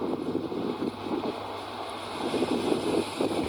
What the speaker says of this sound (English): Sorry, it just got really windy.